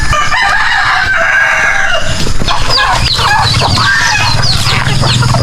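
Native farm chickens cluck and crow close by, with overlapping busy calls and a rooster's crow rising over a constant outdoor background.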